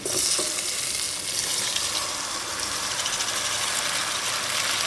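Onion and tomato frying in a pan for moong dal curry, a steady broadband sizzle that stays loud and close throughout, with no talking.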